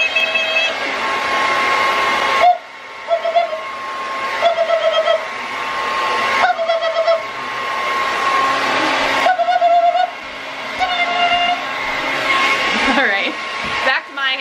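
A hair dryer blows in a long continuous whir that cuts out briefly and restarts several times, steady and fairly close.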